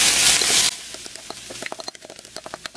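Ponnanganni greens hit hot oil in a pan with a loud burst of sizzling, then settle into lighter crackling with scattered stirring clicks as they fry lightly.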